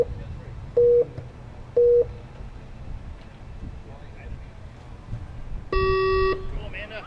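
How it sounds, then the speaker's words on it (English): Electronic start sequence for a Shamrock RC Sportsman Class A-Main radio-controlled car race: two short beeps about a second apart, a pause, then a longer, louder tone over quiet background murmur. "after these beeps, you'll hear a bit of silence and then a tone"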